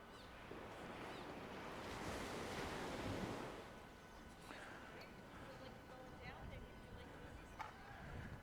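Caribbean ocean waves wash onto a beach at a resort on St. Maarten, a steady broad roar of surf with a louder swell midway, heard at moderate distance with some wind noise on the microphone.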